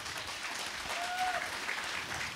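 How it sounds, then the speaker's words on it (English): Audience applause at a B.B. King Day blues symposium, an even, continuous round of clapping filling the room at moderate level, with a brief faint tone passing through. "please, give him a round of applause"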